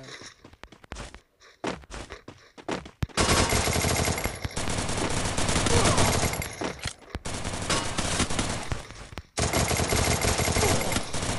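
Sustained automatic gunfire from a video game, with sparse shots and clicks at first, then dense machine-gun bursts that stay loud and continuous, broken by a brief pause before the firing resumes.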